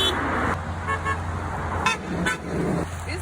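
A car horn honks outdoors at a school-bus stop, two short toots close together about a third of the way through, heard over steady traffic and engine rumble with no talking.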